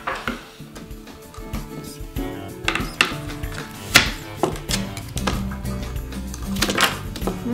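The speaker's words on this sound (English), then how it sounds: "first thing we need to do is chop up all the apples" A knife chops apples into a fine dice for apple pie, with a run of quick, uneven cutting taps over steady background music.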